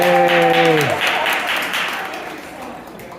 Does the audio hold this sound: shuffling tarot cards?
no